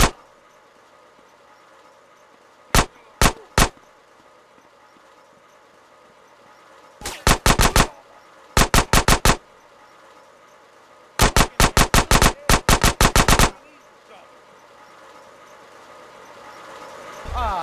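Gunfire in GTA San Andreas Definitive Edition, sharp loud shots in scattered bursts: a few single cracks, then rapid clusters of five or six shots, separated by quieter gaps with faint background ambience.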